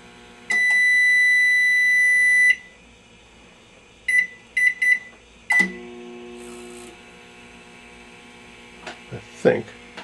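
A repaired microwave oven beeps several times, then hums while running with an uneven buzz, close by, with faint speech in the background.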